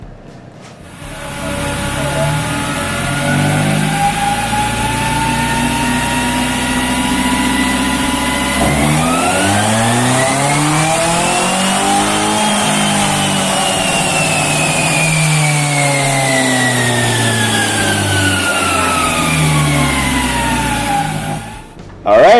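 A Ford Lynx 1.6L engine with a new exhaust revs hard on a dyno, climbing steadily through the gears in a long, loud, rising drone, with one dip at a shift before a final pull and cutoff.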